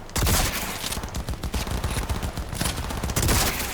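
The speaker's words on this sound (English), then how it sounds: "Oh, I'm shooting the wall." Rapid gunfire from a firearm shooting at a wall in Cyberpunk 2077, loud and dense bursts of shots running nearly continuously across the stretch with brief uneven gaps.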